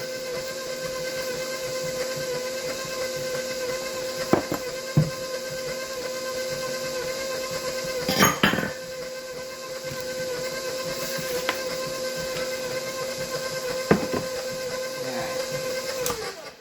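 A stand mixer beating cookie batter makes a steady, high, whining motor hum with a few sharp clinks and knocks from the bowl scattered over it.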